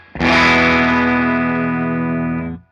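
A single loud electric guitar chord driven through a Hamstead Odyssey overdrive pedal set to ×2 input mode rings out thick and sustained for over two seconds, then is muted abruptly.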